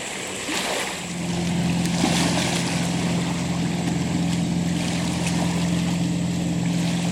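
A motorboat engine drones steadily on a lake, its low hum rising a little after the first second and holding, with water lapping and a faint breeze underneath.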